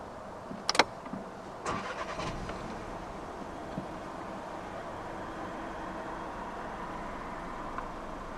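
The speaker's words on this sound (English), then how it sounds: "Put your foot on the brake and then just twist the key to start." A 2014 Volkswagen Golf 1.2 TSI is started with the key: a couple of sharp clicks, a brief cranking catch, then the engine settles into a steady, quiet idle heard close up.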